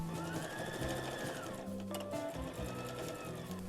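A sewing machine stitches the seam of a fabric bag, running slowly with a steady mechanical whir and rapid needle chatter that shifts slightly in pitch, close and alone.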